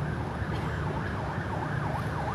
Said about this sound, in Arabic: بوليس جاي،